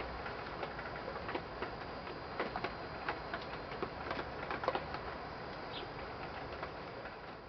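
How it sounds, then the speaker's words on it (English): Hard rain pours steadily outdoors on a wet day near Puget Sound, a dense continuous patter with scattered sharper drops and taps throughout, no voices. "Harder rain."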